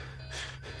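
A single sharp, breathy intake of air, like a gasp, sounds in the Five Nights at Freddy's 3 horror video game, brief and fairly quiet amid a faint hiss.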